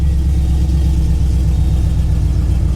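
Pontiac G8 GT V8 with its mufflers missing, running loud and raw with a steady, deep, throbbing rumble that holds close and constant throughout, no voices over it.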